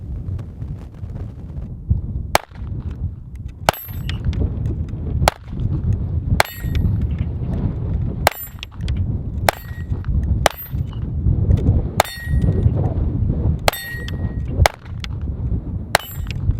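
A Taurus TX22 pistol fires a magazine of .22 rounds at an outdoor range, about a dozen sharp, ringing shots spaced roughly a second or more apart over steady wind noise.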